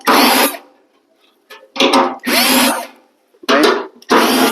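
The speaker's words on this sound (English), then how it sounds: "you're gonna have to remove all these screws" A power drill backs out the screws holding a bracket on a Rheem RGPK-10EAMER furnace blower housing, in four loud bursts of whirring separated by short pauses.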